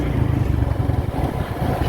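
A motorcycle carrying two riders runs along a road toward Bichanakandi, its engine a steady, close low drone with faint clatter throughout, no voices.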